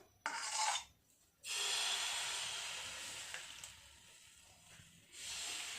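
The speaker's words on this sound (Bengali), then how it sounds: "হাতার পেছন দিয়ে লম্বা করে দেব, গোল করে নিলাম।" The back of a ladle spreads pitha batter across a hot pan greased with a little ghee, making raspy scraping strokes in separate bursts with a hissing sizzle between them, close by and with no voice.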